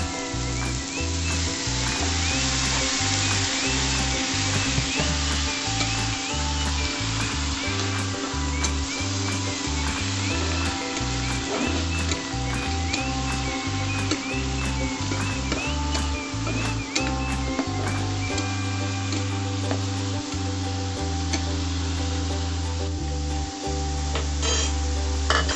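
Spice paste sautéing in a pan with a little water added, a steady close sizzle and bubbling over a droning background of repeating music-like tones.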